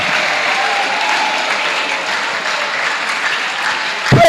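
Steady, dense applause from an audience at a church retreat, sustained and fairly loud throughout, with a brief sharper burst near the end.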